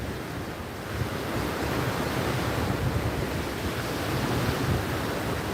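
Rough ocean surf and strong wind on a fishing beach, a steady loud roar of breaking waves with buffeting wind noise on the microphone throughout, no voices.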